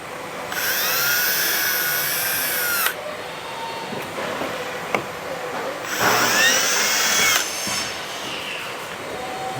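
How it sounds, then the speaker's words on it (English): A power drill bores holes through a kayak deck pad in two loud, whining bursts of a few seconds each, with a short pause and faint handling noises in between. "So you can start drilling these holes."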